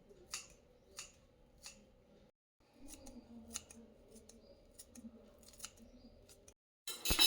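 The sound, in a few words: knife or scissors finely cutting coriander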